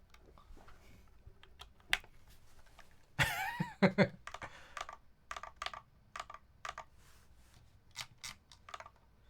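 Typing on a mechanical keyboard set at a 30-degree angle: scattered sharp key clicks, then a brief denser clatter, heard up close and quiet with no speech.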